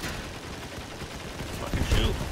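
Gunfire in the vehicle combat game Crossout crackles in rapid bursts over a noisy battle mix, growing louder toward the end of the short stretch.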